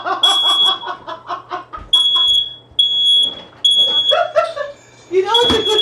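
A smoke alarm gives repeated shrill beeps in short bursts while a person talks loudly over it nearby.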